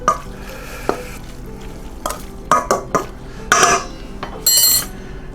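Raw chicken hearts are stirred in a bowl, giving a few short wet squelching and clinking bursts, close and fairly loud, separated by quiet pauses.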